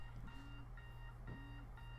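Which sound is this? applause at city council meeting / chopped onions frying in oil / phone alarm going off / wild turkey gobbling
phone alarm going off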